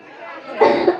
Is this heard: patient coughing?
yes